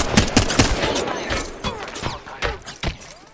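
Rapid bursts of gunfire in Apex Legends, a string of sharp close shots with short pauses between volleys, loud and alone without talk.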